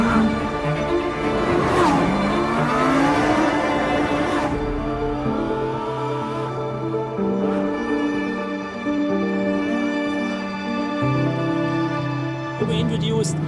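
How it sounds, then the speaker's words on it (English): A Lamborghini Huracan Sterrato drives and drifts on gravel, its engine loud and close with revs sweeping up and down through gear changes, while tyres crunch over loose stones. "I feel like a child driving and drifting the Sterrato because it's so much fun"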